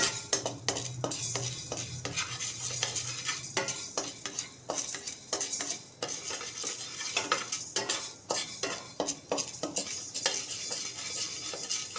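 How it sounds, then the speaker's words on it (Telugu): Sorghum grains stirred in a hot pan to pop them, a spoon scraping and rattling the dry grains close by in quick irregular strokes over a faint sizzle, with no talk. "కొంచెం కొంచెంగా జొన్నలు వేసి ఇలా కలుపుతూ"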